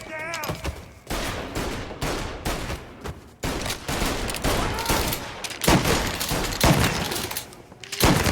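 Heavy volleys of gunfire in a Mafia Definitive Edition shootout, loud repeated bursts and single shots fired in close succession throughout, with a brief shout at the start.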